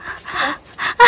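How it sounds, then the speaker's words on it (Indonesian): Heavy, ragged panting after running uphill on a forest camping trip, several quick gasping breaths close to the listener, the last one sharper and louder. "I'm out of breath."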